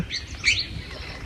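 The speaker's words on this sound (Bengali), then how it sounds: "পাখির আওয়াজ আছে" Birds in a lemon-tree resort garden at Pangan Resort, Sreemangal, Sylhet, give one brief, bright chirp against a quiet outdoor background.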